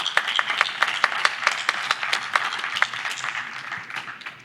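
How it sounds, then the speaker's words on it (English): An audience at a law school commencement claps for an honorary degree recipient, a fairly distant, sparse, uneven patter of individual hand claps without speech. "Let's give another round of applause for our very special honorary degree recipient, the Honorable Justice Edwin Cameron."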